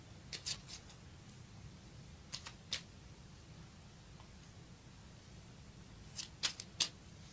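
Tarot cards are shuffled to draw a destiny card: a few brief, soft clusters of card flicks and slides, close but quiet, separated by near silence.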